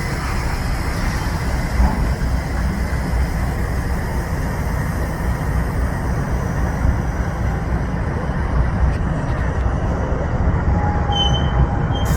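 A CSX freight train rumbles steadily along the rails, a continuous low rolling roar with faint metallic squeals near the end.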